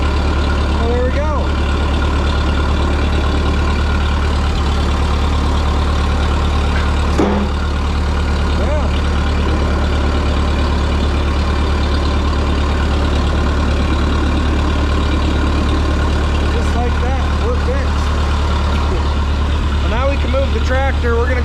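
A Ferguson TO20 tractor engine idles steadily at close range, a low continuous rumble with a brief knock partway through, while people talk over it at times.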